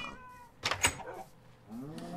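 A cat in the video game Minecraft gives a couple of short, faint meows in quick succession amid quiet background game sounds.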